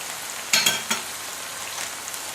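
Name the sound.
zucchini slices frying in oil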